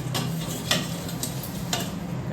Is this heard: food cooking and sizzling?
yes